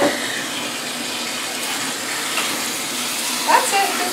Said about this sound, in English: making sure that you're rinsing in their backside